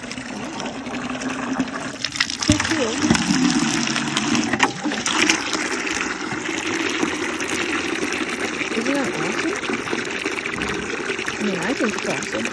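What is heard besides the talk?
water filling a container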